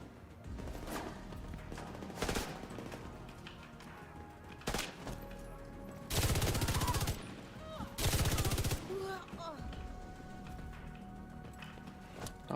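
Gunfire in The Division 2, a video game set in New York, arrives as scattered single shots and two longer loud bursts, with faint game sounds between them.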